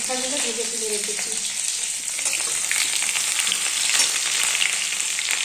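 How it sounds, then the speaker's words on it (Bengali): Potatoes fry in hot oil in a home kitchen, a steady bright sizzle with crackling pops, while a voice speaks briefly at the start. "এই তেলটাতেই আমি আলুগুলো একটু ভালো করে লাল লাল করে ভেজে নিচ্ছি"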